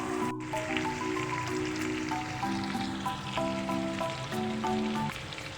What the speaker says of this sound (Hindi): बस अब मैं इसको तेज़ फ्लेम पर बिल्कुल इसको भून लूँगी।